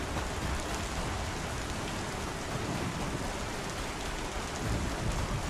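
Steady, dense rainfall in the space game Star Citizen, a constant hissing downpour heard alone without pauses or voices.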